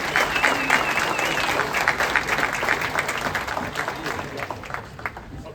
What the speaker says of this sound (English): Another round of applause for our veterans and active service members.